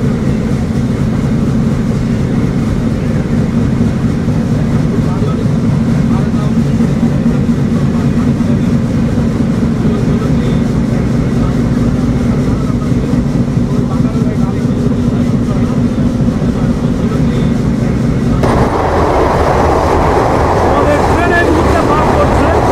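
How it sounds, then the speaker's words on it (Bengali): Jahanabad Express rumbling steadily through Nimtala railway station, a continuous loud rolling drone of wheels and carriage noise heard from on board, growing brighter and harsher near the end. "আর আমাদের ট্রেন এই মুহূর্তে পার করছে নিমতলা রেলওয়ে স্টেশন।"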